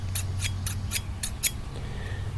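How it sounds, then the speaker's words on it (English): Long hair-cutting scissors snip six times in a quick, even rhythm, crisp and close, followed by a faint scrape. "I got some special scissors for cutting long hair."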